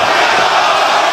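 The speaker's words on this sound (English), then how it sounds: "the 50-50 split between the raucous crowd here in Atlanta" A raucous wrestling crowd at an AEW event in Atlanta roars loudly and continuously, a dense wall of shouting and cheering voices.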